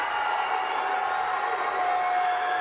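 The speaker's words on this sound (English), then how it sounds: "This crowd is deafening right now." Wrestling arena crowd roaring and cheering loudly for Matt Hardy, a dense, sustained wall of voices with whoops and applause throughout, no pauses.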